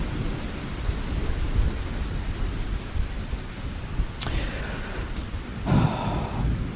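Thunderstorm sound effect during a tabletop role-playing game: steady rain hiss throughout with rumbling thunder and a sharp crack near the end, moderately loud and continuous with no talking.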